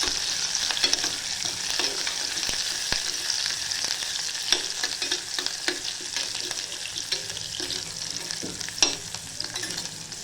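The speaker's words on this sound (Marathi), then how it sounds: "कांदा चांगला लालसर येईपर्यंत परतून घ्यायचा." Chopped onion sautéed in hot oil inside a pressure cooker, a constant sizzle with occasional scraping clicks from stirring.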